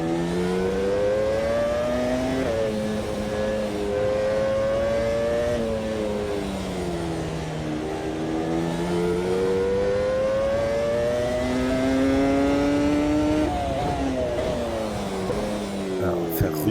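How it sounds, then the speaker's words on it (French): Car engine in a racing video game on a rain-soaked track, revving loudly and continuously with rising and falling pitch as it accelerates and shifts, heard alone and close throughout. "Rugir un peu le moteur, c'est difficile sous la pluie."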